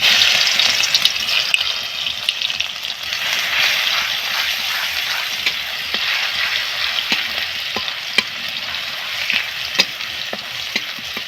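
Garlic paste sizzling and frying steadily in a hot pan with caramelized sugar, a dense continuous crackle with occasional stirring clicks, close and fairly loud throughout.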